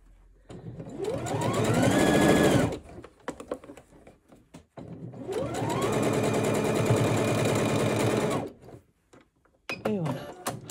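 A sewing machine stitches fabric for a pair of men's underwear in two sustained runs, its motor whirring up to speed and stopping. Brief handling noises fill the gaps, with another short burst of stitching at the end.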